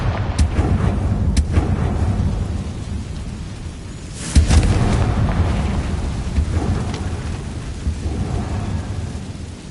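Fiery Confringo blast spell in the Hogwarts Legacy video game: a loud rumbling boom around the middle, over a continuous crackling, thunder-like background roar with a few sharper cracks early on.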